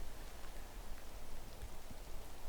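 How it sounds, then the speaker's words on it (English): Rain falls outdoors as an even, dense hiss of drops, constant and fairly close, with no other sounds standing out. "And the rain."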